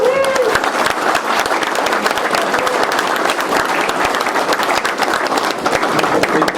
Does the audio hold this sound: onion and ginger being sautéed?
no